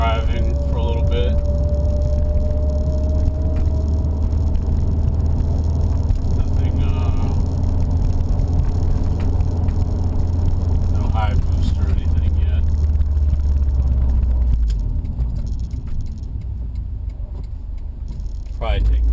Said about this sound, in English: So, just doing some regular driving for a little bit.